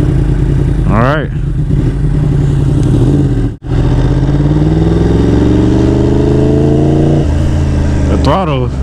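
Yamaha R1 motorcycle engine revving loudly while riding at close range, with a dense, steady roar that rises and falls through gear changes and a brief cut partway through, accompanied by wind noise.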